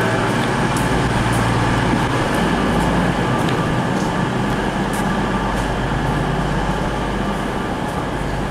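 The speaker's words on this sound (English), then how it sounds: "Here a cross-country Voyager arriving from Reading." A Cross Country Voyager passenger train arriving from Reading rumbles steadily through a station, its loud engine drone and rolling noise constant throughout, with no voices.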